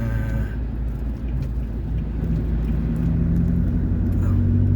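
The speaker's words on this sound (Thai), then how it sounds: "มีรถมา" A car drives along the road at night in Ban Khok Yai, its engine a constant close rumble with a low hum that shifts in pitch, and no talking is heard.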